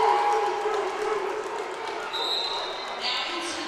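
Crowd noise at a college volleyball match, a broad wash of cheering and voices that stays under a commentator speaking, with a few whistle-like tones near the end.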